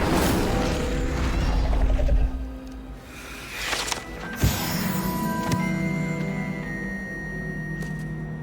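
The Incendio fire spell is cast in Hogwarts Legacy, a loud whooshing burst of flame followed by crackling and sharp impacts over a busy game soundscape, with no voices.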